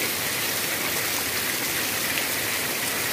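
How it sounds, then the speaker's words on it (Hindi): Heavy rain pours steadily outdoors, a dense, even hiss that fills the whole clip without pause. "इतने दूर के बाद आपको कुछ दिखाई नहीं दे रहा होगा क्योंकि बहुत तेज बारिश है।"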